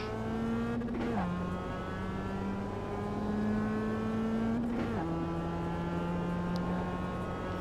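Onboard a race car lapping the Jefferson circuit, its engine holds a loud, steady note that climbs gradually, then drops sharply twice as gears change, with no talk over it.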